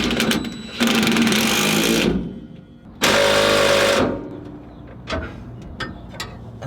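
An impact wrench tightens a nut on a truck shock absorber in two loud, close bursts of rapid hammering buzz, each about a second long, followed by faint clinks and handling noises.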